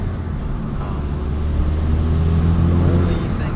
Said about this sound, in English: there's a K&N cold air intake because I wanted to make turbo noises, which adds to the effect of the car, as you can hear right now